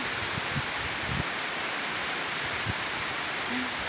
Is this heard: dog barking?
no